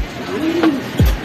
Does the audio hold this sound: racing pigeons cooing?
yes